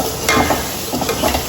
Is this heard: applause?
no